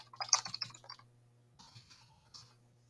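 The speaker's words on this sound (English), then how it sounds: "So bear with me as I type." Typing on a computer keyboard while filling out an online room-booking form, a quick burst of soft key clicks followed by a pause and a few more scattered taps over a steady low hum.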